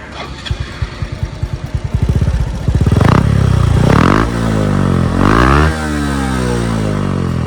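A Honda Wave 110i motorcycle with an aftermarket exhaust pipe idles with a rapid putter, then revs hard several times, each rev rising and falling, before settling into a steady loud drone close by.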